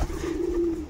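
A pigeon gives one low, sustained coo close by, a soft steady murmur lasting under a second.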